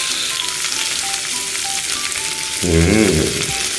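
Garlic and onion sizzle steadily in a hot pan while a cotton fruit dish is cooked, with background music throughout and a louder, fuller burst of frying near the end.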